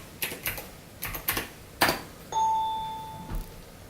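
Several short bursts of keystrokes on a computer keyboard during a Christmas treasure hunt game, close and crisp, followed by a sustained electronic chime and a final key tap.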